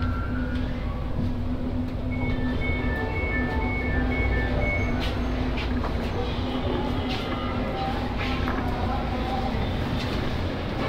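An LRT Line 1 light rail train idles at a platform with a steady mechanical hum and a few faint tonal beeps over the low rumble of the station.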